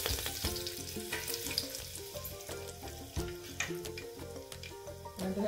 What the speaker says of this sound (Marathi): आपण कढीपत्ता घालणार आहे।